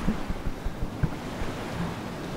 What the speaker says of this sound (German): Da kommt das Meer